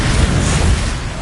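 A Bombarda spell blast erupts in Hogwarts Legacy as a loud, broad explosive roar that holds steady before easing off slightly at the end.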